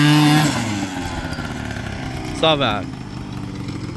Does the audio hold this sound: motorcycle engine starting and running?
yes